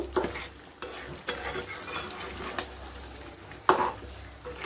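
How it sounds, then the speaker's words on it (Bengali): Chicken being sautéed and stirred in a pot beside cooking beef, a close hiss of frying broken by several sharp spatula scrapes and knocks against the pot, no talking. "এখন মুরগিটা দিয়ে আবার একটু কষাবো"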